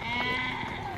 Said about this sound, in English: Why they sound like they're in distress?